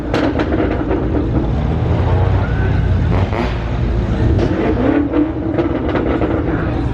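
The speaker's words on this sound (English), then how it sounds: "Somebody revving that shit down there too." A loud engine rumbles and revs steadily nearby, with street noise and faint voices mixed in under the motor.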